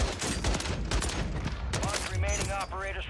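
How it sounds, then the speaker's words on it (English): Rapid bursts of RPK light machine gun fire in the video game Warzone 3 on Rebirth Island, loud sharp cracks in quick succession with a voice talking over the shooting. "That was three shots"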